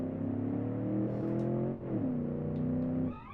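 Car engine in the Automation video game pulling away from a standstill, a steady harmonic drone that rises in pitch, dips briefly at a gear change, then climbs again before cutting off.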